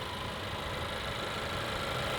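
A 2016 Honda Accord Sport's engine idles with the hood open, a steady, smooth and quiet hum that holds even throughout, heard alone with no talking.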